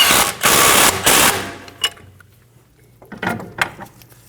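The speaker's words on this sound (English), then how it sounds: "And then snug down the bolt." Ratchet snugging down a bolt on the steering knuckle of a 2012–2022 Volkswagen Passat, with loud rapid clicking bursts up close at the start and a few shorter clicks and clanks afterward.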